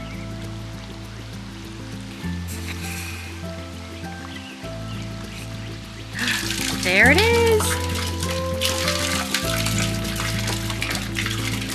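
Rainwater runs from a gutter downspout into a watering can in a garden, a steady splashing trickle under brief talk that swells louder midway.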